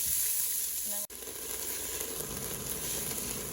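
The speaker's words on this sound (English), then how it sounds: "I'm sauteing the onions here" Onions sautéing in a spoonful of oil in a pot make a steady, close sizzle with a brief dip partway through, then a fuller crackle that continues without talk.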